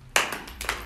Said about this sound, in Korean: 맞아요. 박수.